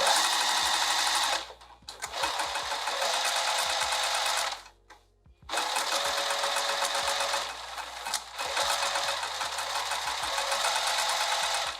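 A sewing machine stitches a dress side seam in loud, close, steady bursts, pausing briefly twice before running again.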